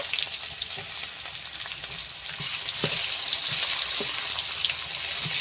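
Chopped onion sizzles in hot oil with cumin seeds and bay leaf, a steady close frying hiss with occasional soft stirring knocks.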